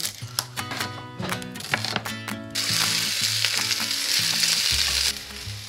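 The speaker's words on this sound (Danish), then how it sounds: "Imens bøfferne steges" Breaded chicken burger patties sizzle and fry in a pan, with a loud steady crackle, scattered clicks of utensils and a burst of stronger hissing midway.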